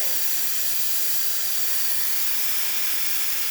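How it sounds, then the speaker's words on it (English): A steady, bright hiss of steam jets out continuously at close range from a La Pavoni Europiccola espresso machine steam wand, even and unbroken throughout. "Steam for the machine, as you can see, it's nice and steady."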